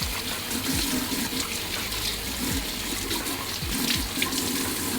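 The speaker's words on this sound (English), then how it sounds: "we could go ahead and start rinsing everything" Steady running water from a tap pours over skin as soap is rinsed off a fresh tattoo, a continuous close splashing wash with small gurgles and no talking.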